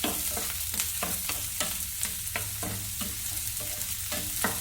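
Small onions, shallots, frying in a pan while being stirred, an even sizzle under regular scraping strokes at about two per second, close and quiet.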